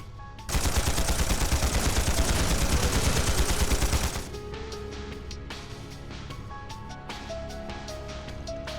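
Sustained automatic gunfire from the video game Trails Through Daybreak, a loud continuous rattling burst lasting about four seconds, then falling away to quieter scattered effects and background game music.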